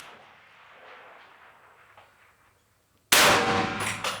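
During a precision rifle practice stage, after a quiet lead-in, a single loud, sharp gunshot strikes a steel target and leaves a bright metallic ring that fades slowly.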